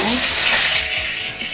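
Whole garam masala, cinnamon, cloves, cardamom and dried red chilli hit hot oil in a pan with a loud, bright sizzle that settles into a steady hiss as it spatters.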